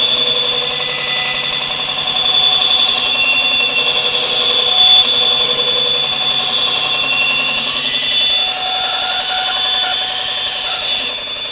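Sorby ProEdge belt sharpener grinding the blade of an antique stop chamfer hand plane, a steady continuous whirring hiss with a high tonal whine, loud and unbroken throughout.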